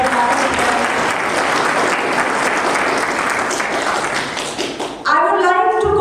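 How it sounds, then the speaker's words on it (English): Sustained audience applause in a hall at a university lecture on design thinking, dense and loud for about five seconds before a voice begins speaking over its fading end. "A big round of applause for that."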